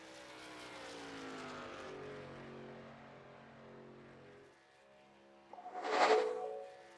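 A race car in a sim racing game roars steadily through the tri-oval of a superspeedway, its engine drone fading, then a sharp, loud pass near the end.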